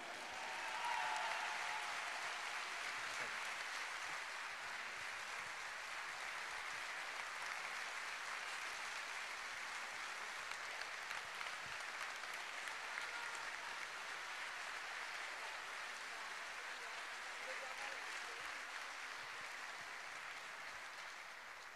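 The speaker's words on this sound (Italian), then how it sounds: "E adesso voglio un grande applauso per una delle nostre azzurre della Nazionale Paralimpica" An audience at an award ceremony for study incentives claps in sustained, even applause that stays steady and fairly distant for the whole stretch, with no talking over it.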